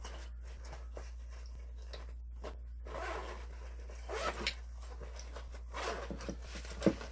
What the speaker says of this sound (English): someplace you could probably put identification into this zippered pocket